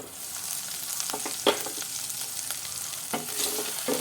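Okra, also called lady's finger, sautés in a pan for curry with a steady close sizzle, broken by a few sharp stirring scrapes and clatters and no voices.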